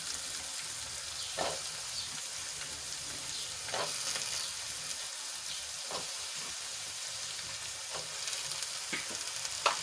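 Eggplant tossed into a pan of beans sautéing in oil for a traditional Gujarati brinjal and beans curry gives a steady close sizzle, with a few sharp spoon-stirring scrapes spaced a couple of seconds apart.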